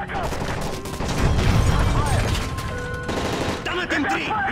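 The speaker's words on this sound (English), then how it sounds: "That's gunfire! Hijackers are taking the plane!" Rapid bursts of gunfire crackle amid chaotic action during a plane hijacking in Call of Duty: Modern Warfare 3, with shouting voices and a steady rumble underneath, loud and continuous throughout.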